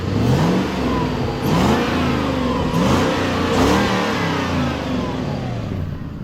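A Lexus GS400 engine, bought cheaply and running, revs up and falls back in several loud bursts, its steady mid-pitched drone swelling with each blip of the throttle, close by and alone.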